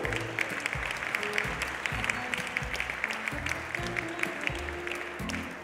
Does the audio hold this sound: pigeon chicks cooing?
no